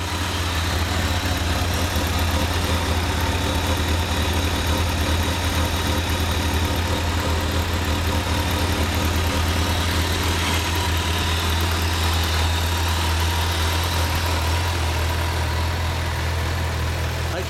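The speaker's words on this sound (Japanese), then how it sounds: "じゃあエンジンかけてもらっていいですか？" A Kawasaki ZRX1200 DAEG motorcycle engine idles loudly and steadily nearby, a constant low rumble with a slight vibrating burble and no voices.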